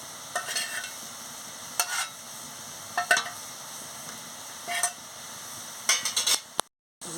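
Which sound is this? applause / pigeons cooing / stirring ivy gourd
stirring ivy gourd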